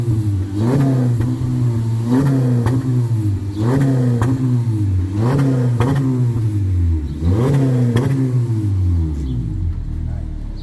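Custom 2018 Honda Civic revving through its exhaust, a throaty close engine repeatedly blipped in rhythmic rises and drops, about six revs before settling to a low rumble.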